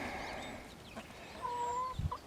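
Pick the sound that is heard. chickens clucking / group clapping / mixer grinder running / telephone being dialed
chickens clucking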